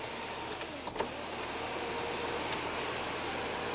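Sliding sunroof shade motor in a 2016 Volkswagen Touareg 3.0 L V6 diesel cabin, a steady electric whir running throughout with a small click near the start, no talking.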